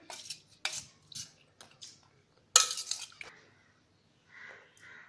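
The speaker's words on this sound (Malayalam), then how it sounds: "ഒന്ന് മിക്സ് ചെയ്ത് കൊടുക്കാം." Mango pulisseri in a pot, an Onam sadya curry, being stirred after tempering is added: a few soft metallic clinks and scrapes of a spoon against the pot, irregular and close, with quiet pauses between them.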